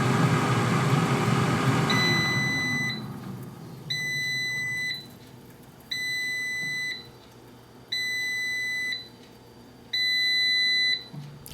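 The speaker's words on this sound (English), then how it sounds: "you're gonna hear 5 beeps" An Emeril Lagasse air fryer gives five evenly spaced, clear electronic beeps, about two seconds apart, over a fan hum that fades as the heating element cools down.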